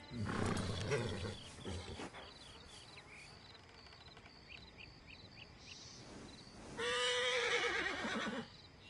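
A horse in Red Dead Redemption Online gives two loud, close whinnies, one at the start and one near the end, over a steady chorus of insects and crickets in the outdoor game setting.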